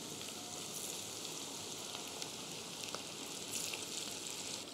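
Shiitake mushrooms and minced garlic fry in hot oil for chili oil, a continuous dense sizzle and bubbling crackle at an even, moderate level with no voices.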